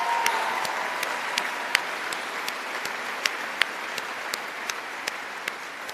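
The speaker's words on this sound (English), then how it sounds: "Let's give them another round of applause." Audience applause at a Games opening ceremony, a steady wash of clapping from a large crowd, moderately distant, with a few sharper individual claps standing out.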